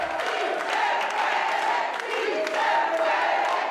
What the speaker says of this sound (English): Supporters of keeping ICE out of California cheer and high five outside the Senate doors once the sanctuary Senate bill passed